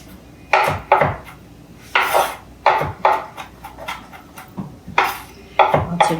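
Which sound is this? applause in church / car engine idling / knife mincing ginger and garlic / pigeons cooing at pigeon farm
knife mincing ginger and garlic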